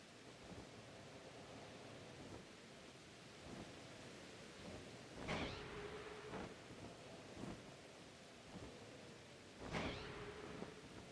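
Rain and thunder in a Pokémon video game: a steady soft hiss of rainfall with two sharp thunder cracks a few seconds apart, no voices.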